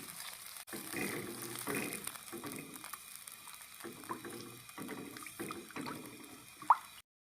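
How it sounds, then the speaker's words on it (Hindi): Water is poured into a cooking pot of fried garlic as a chicken vegetable soup begins, giving soft sizzling and splashing in several short bursts with brief pauses, ending in a small clink. "अब मैं इसके अंदर ये पानी डाल रहा हूँ"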